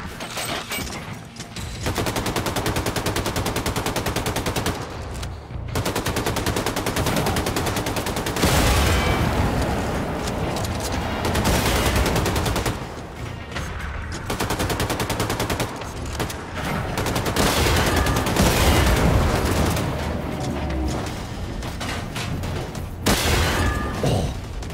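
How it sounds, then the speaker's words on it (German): Loud, dense gunfire and bangs in Wolfenstein II: The New Colossus while shooting at cans, with repeated shots and bursts running almost continuously through about twenty-five seconds and only brief dips between volleys. "Pistole auf Dosen schießen"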